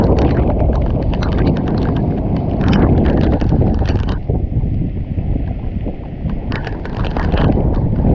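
Strong, steady typhoon wind at the seashore roars and buffets the microphone throughout, a dense rumbling gust noise with no voices.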